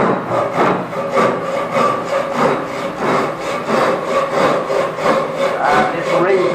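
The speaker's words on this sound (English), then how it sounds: "So it's being pulled. Okay. We cut on the pull stroke." A Japanese-style pull saw cuts through wood at a fine woodworking school, with about ten even, rhythmic rasping strokes, each cutting on the pull. The strokes are close and fairly loud, with no talk over them.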